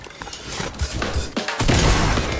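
Rapid gunfire in a Fortnite match, a dense run of shots and crashing impacts that swells louder in the second half, with no talk over it.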